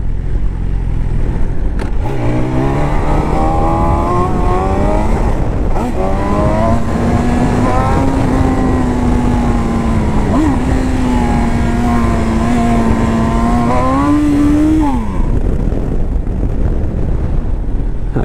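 S1000 motorcycle running on a maneuvering track, its engine note rising and falling through steady high revs, loud and close with a strong continuous drone and shifting pitch, no talking over it.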